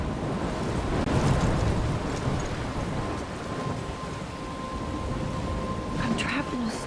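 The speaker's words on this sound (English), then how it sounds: "I'm trapped in a storm?" Thunderstorm in the video game Life is Strange, with heavy, steady rain and a low rumble of thunder forming a dense, continuous roar of weather throughout, and no speech over it.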